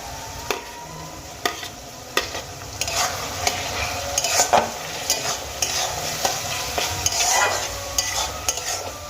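Onion, ginger, garlic and green chilli frying in a pan for a Bengali methi dal. Steady sizzling sits under repeated scrapes and taps of a spoon stirring against the pan, close and moderately loud, with no talk.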